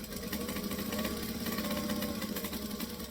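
A home sewing machine runs steadily while stitching with its bobbin thread running low, a continuous close mechanical whir with a rapid fine clatter and a low motor hum throughout.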